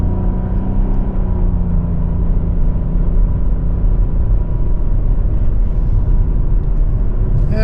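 A 2024 Chevrolet Trailblazer LS pulling away on the road after a brake test, a steady low engine rumble and road drone filling the clip at close range.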